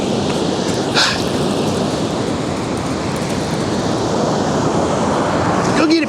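A dog plays on a winter beach on the Humboldt coast, giving a couple of short barks over loud, steady crashing surf and wind.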